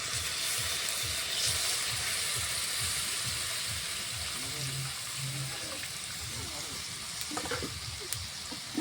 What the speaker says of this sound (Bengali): এরপর নারকেলের দুধটা পুরোপুরি ওর মধ্যে দিয়ে দেবো, মশলার মধ্যে।